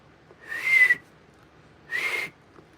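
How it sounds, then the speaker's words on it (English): Two separate whistled notes from a person, each about half a second long, with a quiet pause between them. "Okay, I'm gonna whistle."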